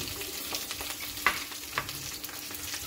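Green chillies, curry leaves, potato and grated carrot frying in a pan for puri curry, a steady close sizzle with occasional stirring clicks and no talk.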